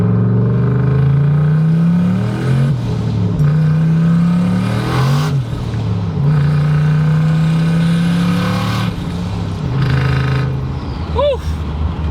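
An 800 hp Camaro fitted with a Silverado engine swap pulls hard through the gears, its loud, close engine note climbing in pitch several times and dropping briefly at each shift.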